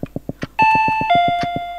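Doorbell ringing in the horror video game Paranoiac: several soft knocks or steps, then two loud sustained electronic chime tones, a higher one followed by a lower one, ringing clear and close.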